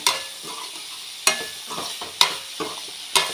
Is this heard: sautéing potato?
yes